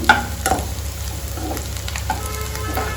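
Green chillies sizzling in hot oil in a pan while a green chilli pulao is being made, with a steady close fry and occasional stirring scrapes.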